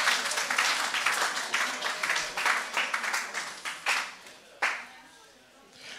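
A church congregation bursts into loud, close rhythmic clapping and cheering that stays strong, then thins into scattered claps and fades, with a preacher's voice heard alongside.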